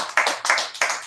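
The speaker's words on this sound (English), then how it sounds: "Clap it up for Lynchburg." An audience claps for the Lynchburg office at a monthly company meeting, loud close bursts of applause surging three times in quick succession.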